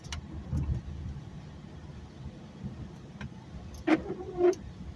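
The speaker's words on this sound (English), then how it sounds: "That sound you may have heard is my windshield wipers because it's raining right now where I'm at." Windshield wipers sweep across a car's glass in the rain while a manual-transmission car is driven, giving two soft swishing thumps near the end over a quiet engine drone.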